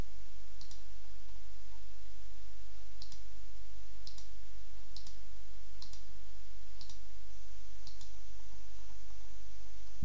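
A computer mouse clicking on icons in progress-tracking software, giving about seven crisp, isolated clicks spaced roughly a second apart in an otherwise quiet room.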